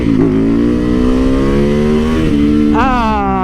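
A lightweight, torquey motorcycle engine revs loud and close, holding a high steady whine that climbs slowly, then blips sharply upward near the end.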